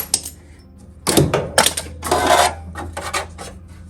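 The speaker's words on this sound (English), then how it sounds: "I can take the clamps off and show you quickly" Metal clamps come off a welded car firewall panel on a junkyard car with a few sharp metallic clanks and rattles in quick succession, close by and without speech.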